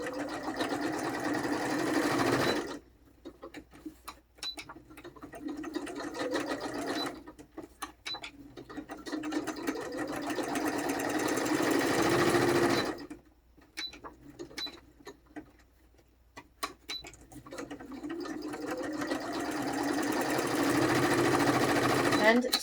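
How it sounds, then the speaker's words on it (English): A sewing machine runs a straight stitch through book pages in several rapid, whirring bursts separated by short pauses, close and mechanical with a rattling pulse. "Let's get that straight stitch on there again."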